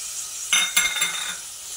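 Finely chopped tomato stirred into sizzling onion and ginger-garlic paste in a pan for paneer bhurji, a brief scrape of the spatula over a steady frying hiss, close and without talk.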